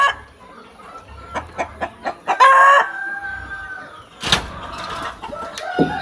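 Purebred Brahma chickens at a farm breeding pen: a run of short clucks, a rooster's drawn-out crow in the middle, then more clucking and calls nearby.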